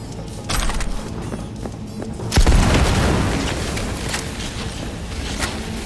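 A shotgun blast in the game Cyberpunk 2077 fires once as a loud, booming report in mid-clip, then trails into a rumbling decay over dense game noise.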